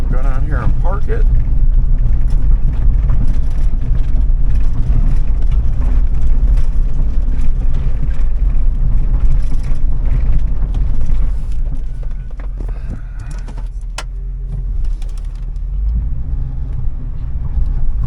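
2007 Hummer H2 with a 6.0L LQ4 V8 being driven, a loud steady low engine rumble from inside that eases off toward the end as it slows, with someone talking throughout.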